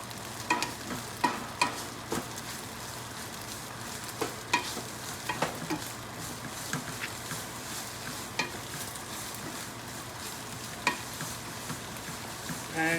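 Mac and cheese with ham is stirred in a hot pan, soft sizzling under repeated scraping and clacking stirs spaced a second or two apart, fairly quiet throughout.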